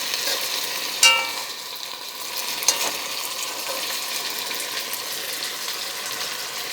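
Chicken browns in a pot for brown stew, giving a soft, even sizzle that runs the whole time, with a sharp clink near the start and another light knock a little later.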